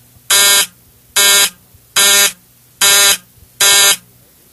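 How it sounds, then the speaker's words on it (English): Continuity tester buzzer sounding as a transmitter positive lead is shorted to ground, five loud harsh buzzes of about a third of a second each, evenly spaced under a second apart. "The buzzer should sound,"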